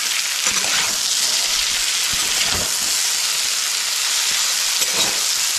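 Sliced potatoes fry hard over a high gas flame for Maharashtrian batata kachrya, a dense, steady sizzle filling the clip as the slices are flipped and tossed in the pan, with soft scraping beneath.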